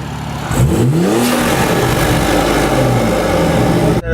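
A BMW 340i fitted with an Agency Power intake pulls away under acceleration, the engine revving up through the gears with a rising, loud mechanical growl before the sound cuts off abruptly.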